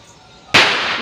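Firecrackers go off outdoors at a home during a Karthigai Deepam festival evening: one sudden loud nearby bang at the midpoint, followed by a sustained crackling, hissing wash that stays loud to the end.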